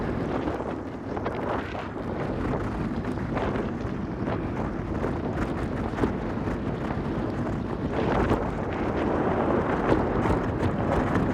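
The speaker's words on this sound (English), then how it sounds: "But the wind hasn't slowed down. It's horrible." Strong wind buffets the microphone during a rainy Pacific Coast bicycle tour near the Humboldt Redwoods, a continuous loud rumbling roar with gusty surges and no talk.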